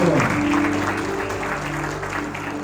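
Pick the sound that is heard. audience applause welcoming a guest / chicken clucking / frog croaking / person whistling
audience applause welcoming a guest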